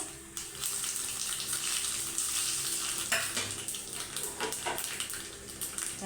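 Cumin seeds and dried chillies fry in hot oil, a steady close sizzle and crackle with a few brief stirring clatters, no talk over it.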